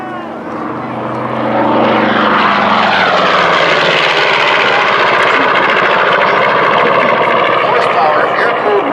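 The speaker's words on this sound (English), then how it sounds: "The P-40 Warhawk right in front of us" P-40 Warhawk fighter with an air-cooled radial engine flying past at an air show, its propeller drone rising loud and holding steady and close while someone talks over it.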